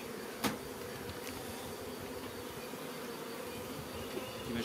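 Honeybees swarm around an opened hive during swarm preparation, giving a steady, dense buzz close to the mic that carries through the whole stretch, with a faint thump near the start.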